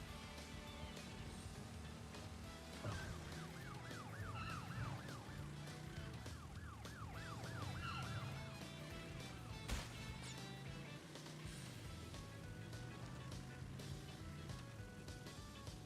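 A police car siren in a Crash Bandicoot game wails in repeated rising-and-falling sweeps over steady engine and game sounds, moderately loud, with a sharp knock near the end.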